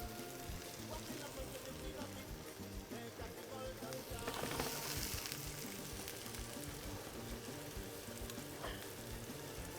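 Bacon lardons frying in a pan give a steady, faint sizzle with crackling pops and occasional stirring throughout.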